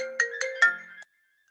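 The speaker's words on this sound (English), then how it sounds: "Phone ringing somehow." A phone ringtone plays a short melodic phrase of four quick, bright tones, clear and fairly close, then stops abruptly as the ring is cut off.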